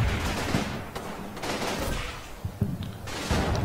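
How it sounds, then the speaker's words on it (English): 2-inch mortar fire in the Combat Mission Fortress Italy war game at San Pietro, a dense rumbling barrage of explosions and bursts rolling on continuously, loud and close. "Here comes more 2-inch mortar fire."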